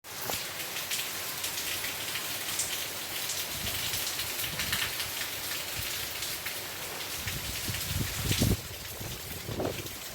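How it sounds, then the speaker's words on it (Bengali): Heavy rain pours steadily in a dense, hissing wash of drops on surfaces, with faint gusts of wind and a few louder close splashes near the end. "প্রবল আকারে বৃষ্টি হচ্ছে"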